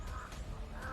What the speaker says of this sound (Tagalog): Ay bay, uwak bay.